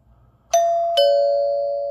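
A wired doorbell chime connected to a transformer rings with two clear, bright ding tones about half a second apart, the second ringing on and slowly decaying, loud and close in a quiet room with no talk.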